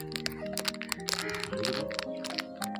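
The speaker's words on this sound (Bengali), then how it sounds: "এবার আমি অরিও বিস্কুটগুলোকে কেটে নেব।" Oreo biscuits are cut with a knife, giving a quick series of sharp, close cracks and crunchy snaps in an irregular rhythm over a few seconds.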